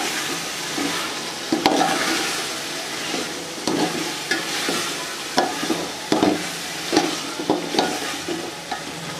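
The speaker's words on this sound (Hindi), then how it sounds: "आलू डालेंगे, अच्छे तरीके से फ्राई करेंगे।" Potatoes fry and sizzle in a prepared masala for aloo pulao, with a constant crackling sizzle broken by repeated stirring scrapes and clatters of a spoon against the pot, close and fairly loud.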